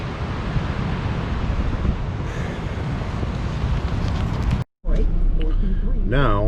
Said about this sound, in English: wind's coming out of like the northeast, and it just blows across the whole lake